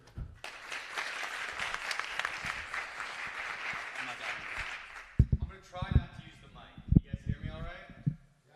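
Audience applause fills a conference main hall for a few seconds after a speaker's introduction, steady and broad, then fades as a voice starts talking.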